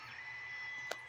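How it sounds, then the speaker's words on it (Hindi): An Ender-3 3D printer prints PLA with a steady, faint whine of stepper motors and fan hum, broken once by a short, sharp click near the end. "ये हमारा प्रिंटर चलने लग पड़ा है"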